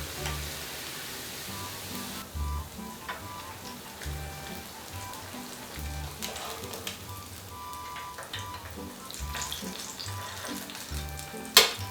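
Eggplant tempura, both Japanese and red eggplant, deep-frying in a pot of hot oil gives a steady, dense crackling sizzle throughout, with brief louder bursts of bubbling and a sharp clink near the end; no one speaks.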